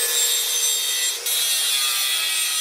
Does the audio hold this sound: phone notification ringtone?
no